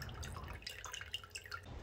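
Water trickles and drips continuously down a tabletop black slate waterfall built into a converted table, a soft close-up splashing with scattered bright drops and no voices.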